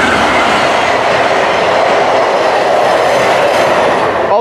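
A Via Rail passenger train passing very close and loud, a dense continuous roar of wheels and rail noise with rapid clickety-clack running unbroken throughout, no voices.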